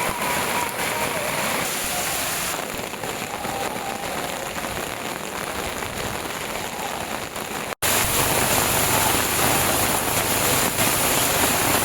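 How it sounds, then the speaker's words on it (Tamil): Heavy rain falls at Tirumala, a loud, dense, continuous roar of downpour that keeps going with a brief cut partway through. "திருமலையில் நேற்று இரவு சுமார் 1 மணி நேரத்திற்கு பலத்த மழை பெய்தது."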